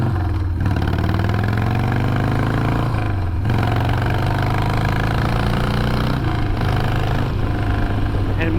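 A Harley-Davidson Sportster motorcycle engine revs up loudly three times, each short burst climbing and dropping back to a throbbing idle, close and alone with no talk.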